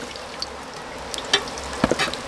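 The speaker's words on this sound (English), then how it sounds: "So we are frying them over again." Green plantain fritters sizzle and crackle softly in oil with a few sharper pops and spatters, close by and fairly quiet, with no one talking.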